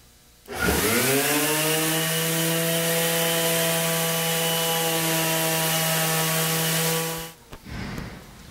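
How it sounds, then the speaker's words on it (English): Wood boards being sanded with 120 grit sandpaper: a steady, loud machine hum with a rasping hiss that runs unbroken for about six and a half seconds, then stops abruptly, with no talking. "the next step is for me to sand them both with 120 grit sandpaper"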